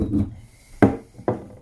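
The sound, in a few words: grinding grain into flour on a grinding stone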